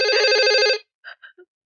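A telephone rings loudly with a bright, trilling electronic ring in a Hindi family drama scene, then cuts off and is followed by a few short, fainter tone blips.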